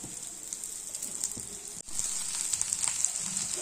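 Prawn fried rice with onions frying in a pan, a steady close hiss of sizzling with faint crackles and a brief break midway before the sizzle resumes.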